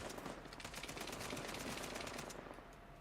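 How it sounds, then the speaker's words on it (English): AK-47 automatic fire in Uncharted 4, fired one-handed: a steady rapid stream of close, loud shots running continuously for about three seconds, fading slightly at the end. "one-hand firing and reloading in an AK-47 is crazy"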